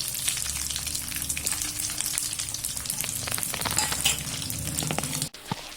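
Dried anchovies fry in hot oil with a dense, steady sizzle and crackle throughout, ending in an abrupt brief drop near the close.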